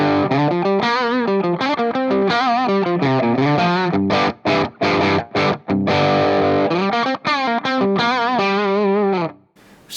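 Heavily distorted electric guitar through an Orange Dark Terror tube amp plays loud, thick chords with choppy stops and bursts, ringing out alone before cutting to silence.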